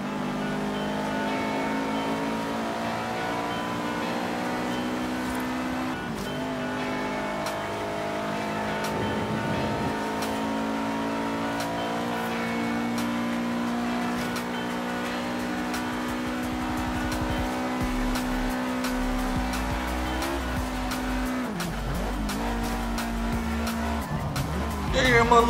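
Racing car in the Forza Horizon 3 video game, its engine droning and revving continuously with tire squeals and skids breaking through at intervals, loud and sustained throughout.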